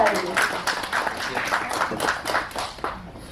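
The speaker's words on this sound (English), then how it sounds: "A round of applause to Prof. Jamalul" Modest audience applause for a professor introduced at an academic conference breakout session, scattered clapping from a small room that tapers off, partly under a voice speaking.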